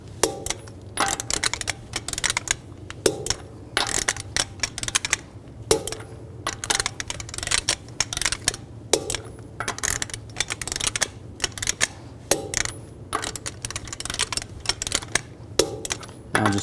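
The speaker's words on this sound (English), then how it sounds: "Now I'm going to torque the lug nuts to 111 foot-pounds in a cross pattern to tighten the wheel down evenly." A torque wrench tightens the lug nuts on a 2010-2014 Cadillac SRX front wheel to 111 foot-pounds in a cross pattern, giving a steady series of sharp, close ratcheting clicks with no talking.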